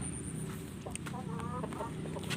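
A Brahma-type chicken clucks in short soft bursts over a low rural background hum, with a faint higher bird call near the start and no clear talking.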